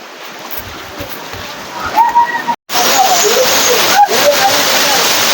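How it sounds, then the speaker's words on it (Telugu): A small waterfall at Tiryani gives a continuous rushing, splashing roar that fills the scene. Voices talk briefly over it, and the water noise cuts out for a moment before returning louder. "ఇదేనండి వాటర్ ఫాల్స్, చాలా చిన్నగా ఉన్నది."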